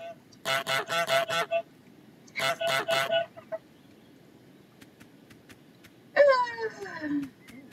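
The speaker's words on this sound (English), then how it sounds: "I am a horrible goose." A cartoon goose from Untitled Goose Game honks in two quick bursts of several squawks, followed by a sliding warbling honk, loud and close over a quiet background.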